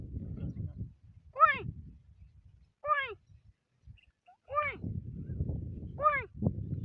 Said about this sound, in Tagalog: Ayan naman yung huni ng babaeng patika na kweng.